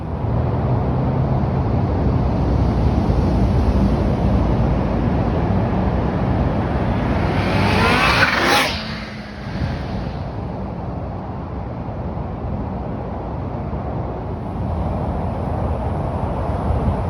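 A supercharged 2021 Kawasaki Z H2 motorcycle rides down the road with a steady, loud engine roar that holds, then drops away sharply after a wind-like whoosh at about eight seconds, continuing more quietly at a lower level.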